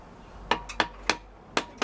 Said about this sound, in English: There you are, big hammers.